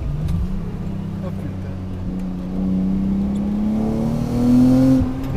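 BMW E36 325i street drifting along a waterside road, the engine note climbing steadily in a loud rising rev with a brief louder surge near the end, heard from inside the car.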